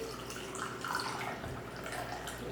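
Hot, strong ginger tea pours steadily from a container, a continuous splashing trickle of liquid with faint drips, close by and unbroken for a couple of seconds.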